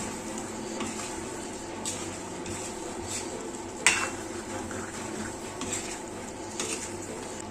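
A spoon scrapes and clinks against a pot while pork roast is stirred after salt goes in, a steady low kitchen hum underneath and one sharper metallic knock partway through.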